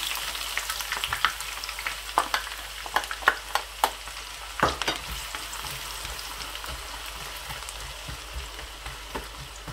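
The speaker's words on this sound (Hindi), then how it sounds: "अभी इसमें से थोड़ा सा ऑयल कम करके मैं प्याज फ्राई करना शुरू करूँगा" Onions fry in already very hot oil with a continuous close sizzle, crackling with frequent sharp pops and spatters over nearly ten seconds, with no one talking.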